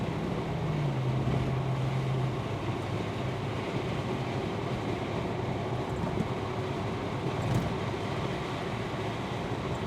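A 1936 Ford pickup truck's engine pulls steadily as the truck accelerates down a road, a continuous loud low rumble with a brief rising tone early on and no talking.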